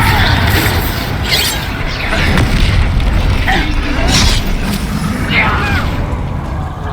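Confringo and Bombarda spell explosions in the Hogwarts Legacy video game boom loudly and continuously, mixed with crackling bursts and shattering debris under combat voices.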